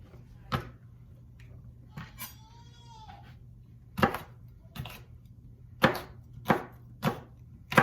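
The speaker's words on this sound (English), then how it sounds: "chopping up all the veggies" Knife chopping vegetables for a vegan stew on a cutting board indoors, with sharp, close thuds spaced irregularly about a second apart over a quiet background hum, plus a brief faint squeak between chops.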